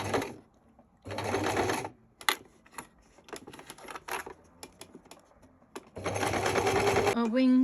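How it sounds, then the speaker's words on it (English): Bursts of a sewing machine running at close range as it stitches around the wing of a handmade soft toy duck, with pauses between runs filled by small clicks and handling noises. "I'm going to sew around the wing and give it a bit of a stuff and sew it on"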